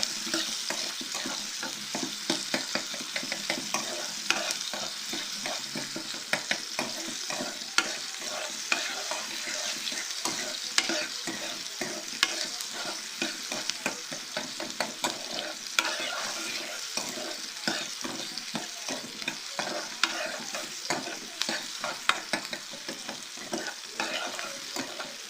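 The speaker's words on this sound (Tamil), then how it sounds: "இப்போ நம்ம கட் பண்ணி வச்சுருக்கிற மீடியம் சைஸ் வெங்காயம் ரெண்டுத்தையும் போட்டு நல்லா வதக்கிக்கலாம்" Medium onions and eggplant stir-fried in a pan for a Tamil eggplant poriyal, giving a steady close sizzle with constant scraping and stirring clicks throughout, no talking.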